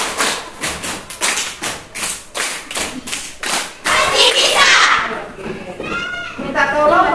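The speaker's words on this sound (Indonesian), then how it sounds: "Tepuk irama delapan." A group claps a quick rhythmic pattern of sharp, even beats in a classroom coaching session, the counted 'rhythm eight' clapping game, for about four seconds before the claps give way to a noisy room and a burst of chatter.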